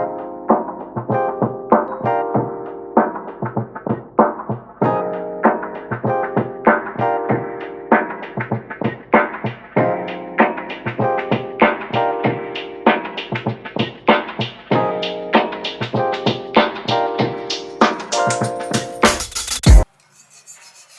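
A cheap eBay exhaust manifold flange for a Silvia with a Precision 58/58 turbo is sanded in steady back-and-forth strokes, a loud, close, rhythmic metallic rasp that stops abruptly near the end.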